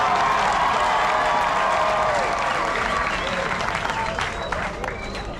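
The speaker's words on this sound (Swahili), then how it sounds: "nawaombeni mtoe tena vigelegele na takbiri kwa ajili ya Allah" A large crowd of Muslims at an iftar gathering at the North Kivu governor's office erupts in ululation, takbir chants and applause, loud and dense at first, then thinning gradually toward the end.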